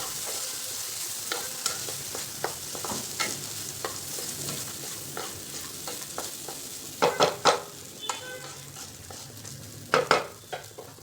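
Lemon rice being stirred in a pan, a constant close sizzle with repeated scraping strokes of a spoon against the pan that grow sharper toward the end.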